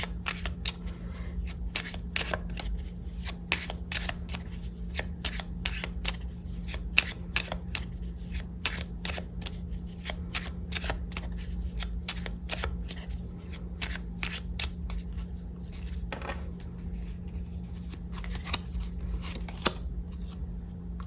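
A deck of Lenormand cards shuffled continuously, with rapid crisp riffles and flicks at close range over a low steady hum.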